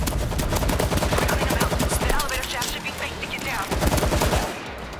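Rapid bursts of automatic gunfire rattle almost nonstop, loud and close, with brief lulls between volleys in a chaotic firefight in the video game World War Z.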